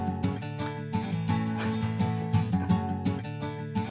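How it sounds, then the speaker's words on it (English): A music loop time-stretched to play twice as fast, packing a busy, dense stretch of layered tones and quick rhythmic hits into a steady, moderately loud passage with no talking. "This time, I'm actually time stretching and speeding this up."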